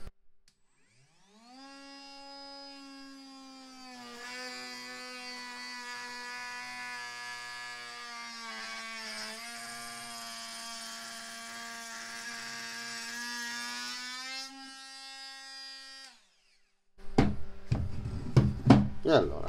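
Battery-powered Parkside 12V cordless vertical router (POFA 12 A1) cutting with a bit, a steady loud whining motor drone lasting about fifteen seconds, followed by scattered knocks and handling clatter.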